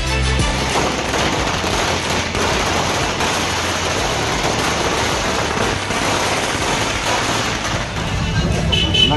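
Firecrackers burst in rapid, unbroken volleys at a political celebration, a loud, dense crackling barrage that continues from start to end with no pauses.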